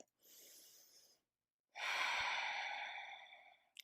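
A person breathing deeply during a guided hip stretch: one soft, short breath followed after a pause by a longer, louder and fuller exhale, close to the microphone with no talking.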